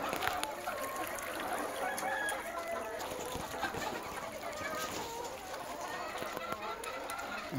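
Laying hens on a poultry farm cluck continuously in a dense, steady flock chorus, with occasional rooster-like crowing mixed into the busy background.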